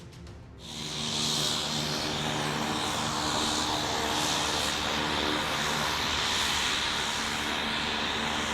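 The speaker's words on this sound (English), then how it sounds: "An Alaskan fishing excursion may begin not by boat, but instead by seaplane." A small propeller seaplane's engine drones steadily and loudly after rising at the start, a continuous buzzing hum nearby, flying across Cook Inlet in Alaska.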